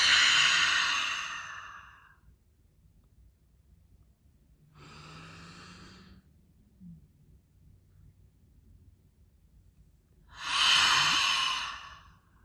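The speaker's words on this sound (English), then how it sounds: "in through the nose, out through the mouth." Slow deliberate breaths, in through the nose and out through the mouth, three long airy exhales spaced several seconds apart with quiet pauses between, close and fairly soft, the first and last strongest.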